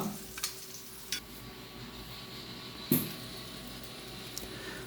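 Chicken sizzles steadily in hot oil for a curry fry, with a few sharp metallic scrapes and clinks as pieces are scooped out with a ladle; close and continuous, with no voices.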